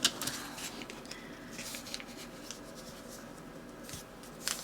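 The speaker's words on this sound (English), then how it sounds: "So now we're going to take that fold and we're going to fold it again toward you." A paper dollar bill is folded by hand with soft rubbing and creasing, and crisp crinkles come at the start and the end.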